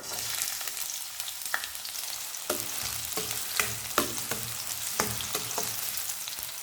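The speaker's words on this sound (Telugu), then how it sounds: "ఆయిల్ వేడైంది కాబట్టి కట్ చేసిన ఉల్లిపాయలను వేసుకుందాం" Chopped onions hit hot oil in a pan and fry with a steady, bright sizzle, with occasional stirring clicks and scrapes close by and no voices.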